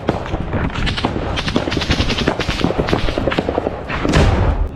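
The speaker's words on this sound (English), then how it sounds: "Every weapon in the group opens up at once, shot after shot." Many weapons firing together at a drone in combat, a dense, continuous barrage of overlapping shots and thuds with bursts like machine-gun fire, loud and sustained throughout.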